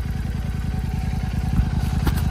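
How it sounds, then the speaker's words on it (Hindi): Royal Enfield motorcycle engine running at a Diwali party, a steady, close thumping idle with an even pulsing beat and no talk over it. "6 लाख की है रॉयल एनफील्ड की"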